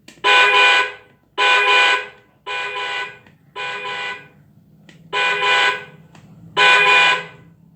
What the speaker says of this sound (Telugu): ఈ హార్న్ చూడండి.